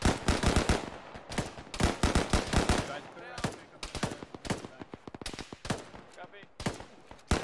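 Rapid bursts of gunfire in the Arma military shooter during a ShackTac squad firefight, loud cracks in quick strings and volleys filling the whole stretch, with brief pauses and squad voices talking over it.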